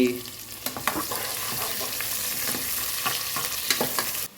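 Chicken fries in a hot pan and gets stirred: loud, steady sizzling with repeated scraping clatters from the spoon against the pan, close up and without talk.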